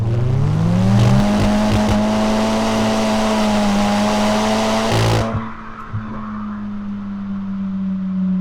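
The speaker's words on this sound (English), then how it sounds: "Describe that as a 30 to 60 mile an hour burnout." A front-wheel-drive car converted for track use doing a 30 to 60 mph burnout, engine screaming with a sustained loud tire squeal for about five seconds, then cutting off abruptly, leaving quieter road noise.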